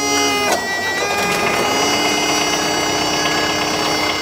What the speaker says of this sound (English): Let's see if this will turn over my engine.